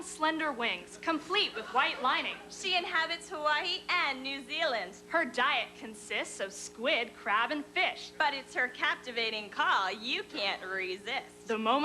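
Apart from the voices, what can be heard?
None of the usual background noises is heard.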